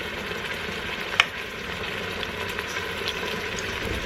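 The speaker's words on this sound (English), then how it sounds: "I'm going to put my Instant Pot on, if you can see, saute. We're going to get that good and brown on both sides." Beef browning in an Instant Pot on the sauté setting gives a steady close sizzle, with one sharp clink early on and faint bubbling beneath, no talk.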